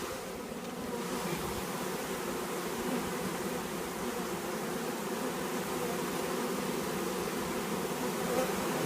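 A dense, steady buzz of many honeybees swarming together in a hive, loud and continuous with no voices.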